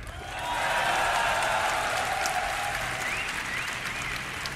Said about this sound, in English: why everybody was cheering